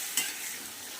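Half-boiled, salted papaya for a chicken curry is tipped into a hot frying pan; a brief clatter at the start is followed by a steady sizzle.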